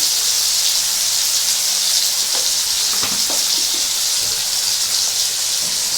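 Onions fry with sugar in a pan for Bengali mutton keema bharta, making a loud, steady hissing sizzle throughout, with a few soft stirring clicks partway through.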